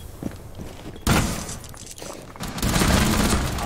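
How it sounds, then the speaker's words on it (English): Enemy gunfire in Rainbow Six Siege on the Oregon map comes as sharp bursts, one loud shot near the start of the second second and a heavier sustained volley toward the end, over footsteps and game ambience. "he's shooting at me"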